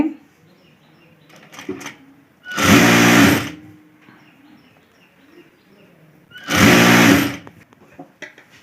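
Two loud bursts of a sewing machine stitching a blouse, each about a second long, separated by quieter handling noise and faint background sounds.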